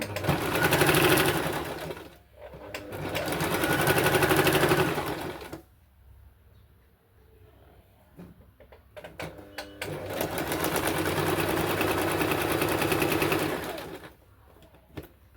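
A sewing machine stitches a chudithar pant in two long loud runs, broken by a quieter pause with small handling sounds before the motor starts again and ends with a short burst.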